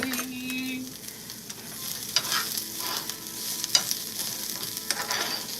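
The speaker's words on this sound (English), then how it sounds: "So we just want to saute it a little bit" Vegetables for a pepperoni and salami pizza sautéing in a pan, a steady close sizzle with intermittent scraping and stirring clicks, no talking.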